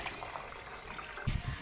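Water runs from a tap while someone washes their face at home, a soft, faint trickle that flows steadily for a moment before a few louder low splashes near the end.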